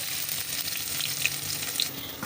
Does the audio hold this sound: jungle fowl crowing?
no